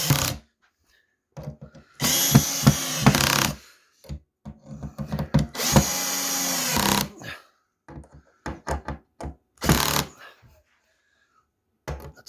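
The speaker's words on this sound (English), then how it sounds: "now we're ready to put screws in, and then that is the bottom done" Power driver running screws into the bottom panel of a Rebon kitchen drawer during assembly, heard as two long whirring bursts and several shorter ones, with brief pauses between, loud and close.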